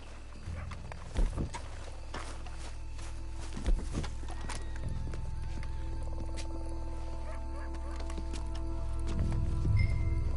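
Horses walk at a steady pace in the video game Red Dead Redemption 2, with soft hoof clops and a couple of sharper thuds over a constant low ambient hum.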